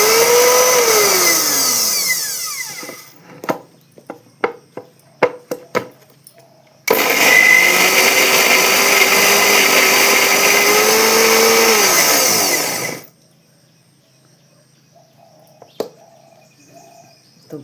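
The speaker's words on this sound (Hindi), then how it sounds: "अब मैं मिक्सी में ग्राइंड लगी करने" A kitchen mixer grinder grinding masala runs loud and close in two long whirring bursts, its motor pitch sliding down as each run winds down, with a stretch of clattering taps between them and quiet afterward.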